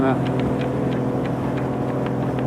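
A sailing boat's inboard engine motoring along the Kyles of Bute off the Isle of Bute, Scotland, as the revs are raised: a steady, close, mid-pitched droning hum with a continuous tonal throb.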